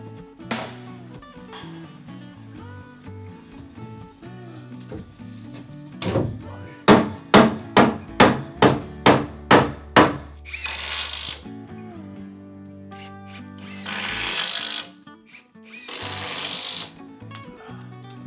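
Structural shear wall sheathing panels go up on a small 9 m² home addition framed by hand, with a quick run of about ten sharp hammer blows followed by several longer rasping tool bursts, all over background music.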